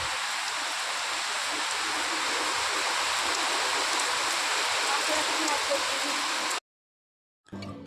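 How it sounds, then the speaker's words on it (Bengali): Heavy downpour begins suddenly after a clear sky, a dense, steady roar of rain lasting several seconds before cutting out abruptly, then resuming briefly at the end. "শুনতে পাচ্ছ বৃষ্টির আওয়াজ?"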